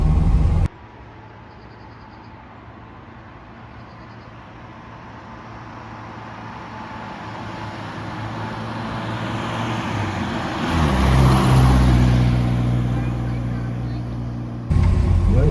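A classic Ford Escort van climbs a hill in third gear, its engine drone rising steadily in pitch and loudness from inside the cab, then easing off near the end.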